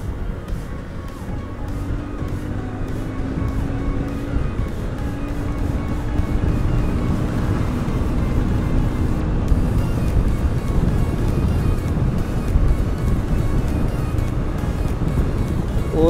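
A car drives along a highway on a trip from Mumbai toward Pali, giving a steady, loud road rumble and wind roar that builds slightly, with no talk over it.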